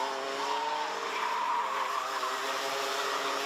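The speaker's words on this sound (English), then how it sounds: "Now Avril has got Majauskis about 4 kart lengths behind" Junior go-karts racing around the Genk circuit during a Euro Trophy heat, a steady high-pitched engine whine with tyre skid, sustained and fairly close throughout without pause.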